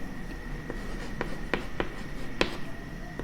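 Chalk writing out the details of a right triangle on a classroom board: a series of sharp taps and short scratchy strokes, close and moderately loud, over a faint room hum with no talking.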